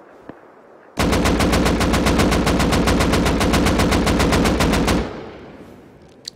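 Rapid automatic gunfire from a Rust video game weapon fired without a muzzle brake, a loud, steady burst of evenly spaced shots lasting about four seconds before stopping abruptly.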